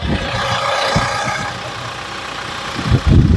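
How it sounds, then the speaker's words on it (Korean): A Hyundai Porter double cab truck's diesel engine idles nearby with a steady mid-low hum, followed by a couple of louder thumps near the end. "제가 엔진 소 한번 들려줄게요"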